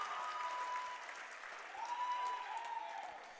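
Crowd at a JV high school basketball championship game applauding and cheering, a steady wash of clapping that swells briefly, with a faint whistle-like tone over it.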